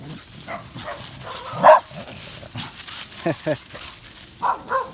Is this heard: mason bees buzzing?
no